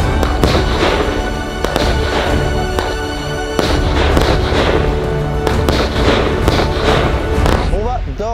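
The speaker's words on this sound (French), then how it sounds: "je suis amoureux des feux d'artifice, je veux tout le temps en faire" Fireworks go off on an island at night, a rapid loud series of booms, crackles and bangs filling the whole stretch, with people talking over them.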